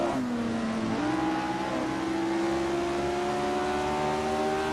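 A 1965 BRM Formula One car engine in the racing game Assetto Corsa holds a high, steady, buzzing drone, its pitch rising slightly through a gear change, close and continuous throughout.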